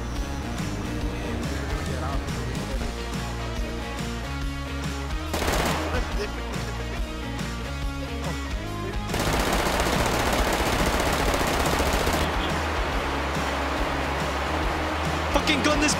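Gunfire in the video game DayZ: dense, sustained automatic bursts fill the whole stretch and grow heavier about halfway, mixed with loud in-game action.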